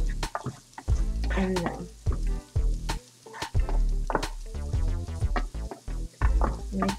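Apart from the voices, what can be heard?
diced onion sweating in a pan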